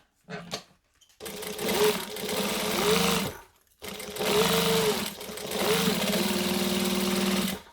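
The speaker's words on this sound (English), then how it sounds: "I'm doing a 1/4 inch seam allowance here because I still want to top stitch." A domestic sewing machine stitches a quarter-inch seam on a fabric wallet in two long, steady runs with a brief stop between them, loud and close, and no talk over it.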